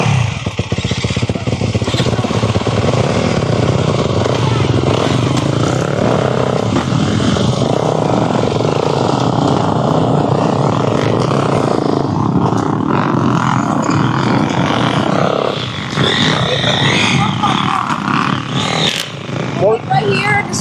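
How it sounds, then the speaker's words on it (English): Several big motocross bikes fire up and rev at an East Fork MX training camp, a loud continuous engine roar with rising and falling revs filling the whole stretch, close by. "All right, guys, big bikes, fire them up"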